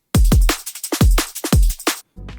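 A liquid drum and bass loop repeating a steady beat, sharp hits with hats and snares, the deep low end thinned out by a low cut so the kicks feel lighter.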